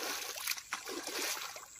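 Water flowing and trickling at a riverside spot near Cuttack, a soft, faint wash of splashing liquid with a few brief surges.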